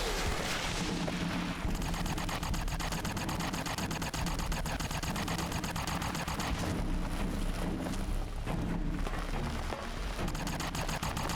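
Rifle fire in the game Fallout: New Vegas, a dense, continuous stretch of loud, rapid shots with no let-up, rattling close by throughout.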